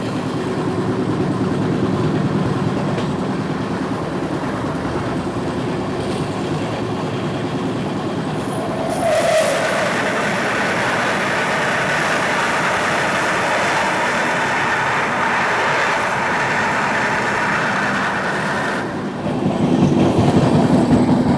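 An Indian express passenger train crosses the oncoming Gondia Junction–Barauni Express, a loud continuous rumble with rattling wagons and clickety-clack that surges midway as the other train rushes past close by.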